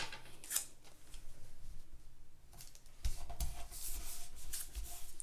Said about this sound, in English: I'll cut off any paper that's kind of hanging over the edges